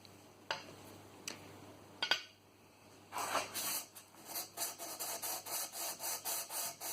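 A Union 110 block plane being sanded on 120 grit sandpaper: a few sparse scrapes first, then a run of regular, close back-and-forth rubbing strokes, crisp and gritty, with no voices.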